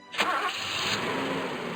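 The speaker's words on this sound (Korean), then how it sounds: "5초 내에 엔진 시동을 거세요." A car engine cranks and fires in the 3D Driving School (3D운전교실) driving-test game. A sharp starter burst gives way to a steady, even idle that runs to the end, with no talking.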